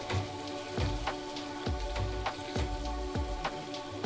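Paneer tikka roasts in a pan with spiced masala, giving a constant crackling sizzle. Regular sharp taps and scrapes of stirring break through it, close and clear.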